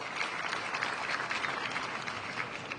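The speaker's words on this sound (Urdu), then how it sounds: "تو خالد عراقی صاحب کے لیے بہت ساری تالیاں ہونی چاہیے۔" Audience applause at a university convocation in a governor's house hall, a broad continuous patter of many clapping hands at moderate distance, steady throughout without a break.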